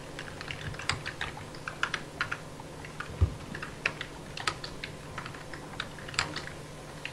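Computer keyboard clicking close by as a chat command is typed during an Unturned game, quick irregular keystrokes with one heavier thump midway and no talking.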